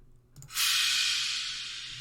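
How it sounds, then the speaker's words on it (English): A thin, bright cymbal crash with no low end hits after a brief pause and rings out as a sustained shimmering hiss. "So it's a very high pitch crash that plays at the same time"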